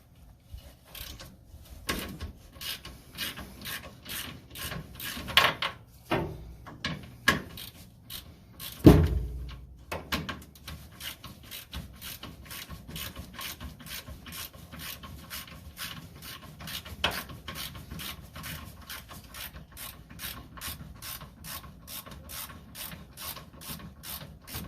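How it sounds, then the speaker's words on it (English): A ratchet wrench loosening the last steering box bolt clicks in quick repeated strokes, with scraping and metallic knocks in between and a long steady run of fine ratchet clicks afterward. "One more bolt to loosen, and then I think the box will be loose."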